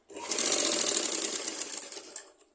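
A sewing machine stitches a petticoat in one steady, close, whirring run of about two and a half seconds, with no talking.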